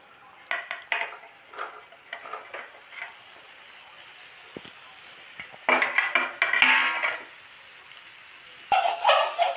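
Boiled cauliflower tipped into a pan of spiced masala, a series of clattering scrapes and clanks of utensil against pan in short bursts, with quiet gaps between and a louder flurry near the end.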